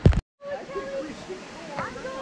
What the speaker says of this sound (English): here's the waterfall that drenches you